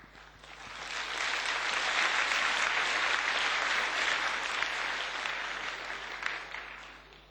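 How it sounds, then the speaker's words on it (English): An audience at a European Parliament youth event applauds, a dense steady wash of clapping that swells in, holds for several seconds and tapers off, with no voices over it. "On les applaudit ensemble."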